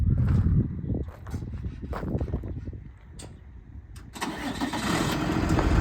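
The Cummins 6.7 turbo diesel engine of a 2010 Freightliner M2 106 utility truck cranks in heavy, uneven low bursts, then catches and settles into a loud, steady idle nearby.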